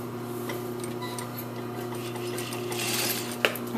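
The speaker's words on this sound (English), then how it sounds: "now I'm going to stitch this side from the top down" A sewing machine edge-stitches a fly zipper with a steady mechanical hum and a rapid ticking needle rhythm. It sounds close and continuous, and a sharp click comes near the end.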